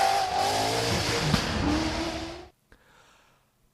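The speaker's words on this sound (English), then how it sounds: "It's essentially a GT4 Aston Martin that has been retrofitted to go off-road." An off-road GT4 Aston Martin rally car, retrofitted for loose surfaces, blasts past with a loud, dense engine roar for about two and a half seconds before cutting off abruptly, leaving faint distant noise.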